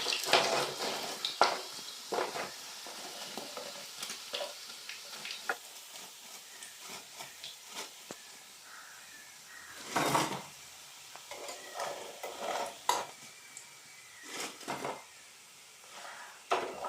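Chicken nuggets fry in oil in a pan, a steady close sizzle broken by repeated scraping and clinking bursts as they are stirred and turned to brown.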